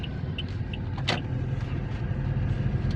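Road traffic near Walter Mart in the Philippines, a steady low rumble of idling and slowly moving cars heard from inside a vehicle, with a brief sharp mechanical whine midway and faint ticks.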